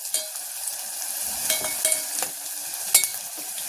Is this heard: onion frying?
yes